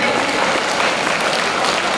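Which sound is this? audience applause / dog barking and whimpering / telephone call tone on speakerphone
audience applause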